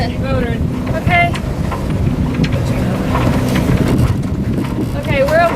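Trimaran motoring into gale force wind, a steady engine drone under loud buffeting wind noise on the microphone, close and continuous, with people's voices calling over it.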